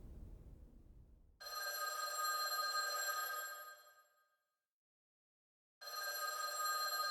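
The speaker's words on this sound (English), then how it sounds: "The phone rang." A telephone bell rings in a mansion: one long, loud metallic trill fades out, then a second ring starts after a pause of about a second, with nothing else heard.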